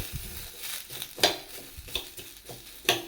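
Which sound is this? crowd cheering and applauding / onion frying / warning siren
onion frying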